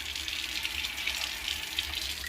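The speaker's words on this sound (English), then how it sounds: "I'm going to put a little bit of water in here from the sink" Water runs steadily from a kitchen sink tap into a tea kettle, a smooth continuous splashing hiss at moderate level.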